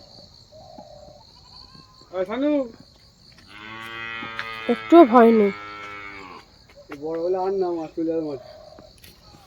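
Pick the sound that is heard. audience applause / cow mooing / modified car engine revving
cow mooing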